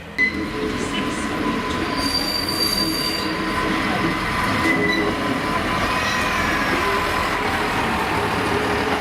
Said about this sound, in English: the train for Pwllheli pulls forward